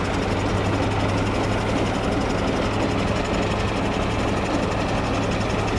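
A 5106 combine harvester engine running at a steady pace during wheat transport, a loud, close, continuous rumble with a fast even knock and no pauses or voices.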